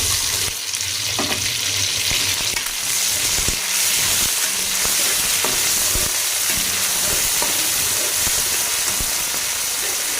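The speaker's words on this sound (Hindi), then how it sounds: "तो 1 मिनट तक हमने सब्ज़ मिर्च और जीरे को रोस्ट करना है" Green chilies and cumin seeds roast in 6 to 7 tablespoons of hot oil, giving a steady, loud sizzle and crackle that runs unbroken with faint stirring knocks underneath.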